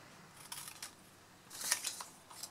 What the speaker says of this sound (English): where's my scissors? Then we're just going to cut away this small corner here.